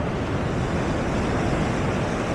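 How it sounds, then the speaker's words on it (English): Rushing water pours down a hillside onto a beach in Spain during stormy winter weather, a loud, steady broadband roar with wind buffeting the microphone and no pauses throughout. "you'll see the water coming down from the hillside"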